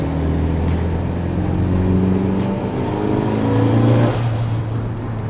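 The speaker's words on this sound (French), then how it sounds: "Oh, le bruit du turbo, il est présent, franchement." A Nissan Silvia S13 RS with a turbo engine accelerates, its loud engine note rising steadily before a sharp, high hiss bursts out near the end as the dump valve releases.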